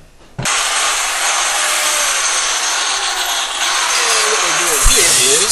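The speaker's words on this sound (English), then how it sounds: "what we're doing here is cut the inside of the flange so we can just take the flange out of pieces" A power tool bites into the inside of a cast iron toilet flange, starting abruptly and grinding with a loud, harsh, continuous metallic rasp close to the listener that rises slightly near the end.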